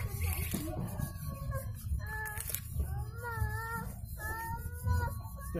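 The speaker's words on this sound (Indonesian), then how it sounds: "Ada kucing ni." A cat meows several times in drawn-out, wavering calls close by, with people talking and commotion around it.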